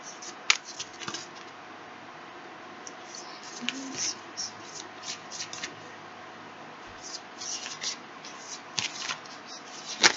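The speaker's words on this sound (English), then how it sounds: "Okay, so we have cards falling now." Tarot cards riffled and shuffled by hand, then landing on a surface, producing a steady stream of soft flicks and sharper snaps over a low background hiss, with no talking.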